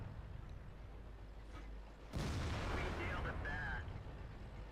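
AMX 50 120 tank gun firing an APCR shell at an IS-4 in World of Tanks, a sudden loud blast halfway through that rolls into a long rumbling boom over the game's steady engine hum.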